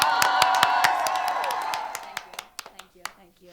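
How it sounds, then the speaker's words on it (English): Applause and cheering from a game-show audience swell at first, then thin out into scattered individual claps trailing off near the end. "Can I get another round of applause?"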